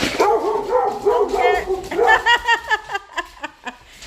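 A person speaks, then a dog lets out a series of high, yappy barks and yips in a quick rhythm, close by.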